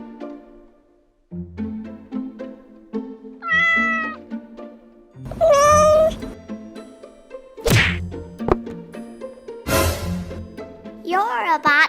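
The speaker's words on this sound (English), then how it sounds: "You're a bad cat." A cat meows several times in short rising cries between thumps and sharp whacking knocks, with a person talking in between, all close and fairly loud.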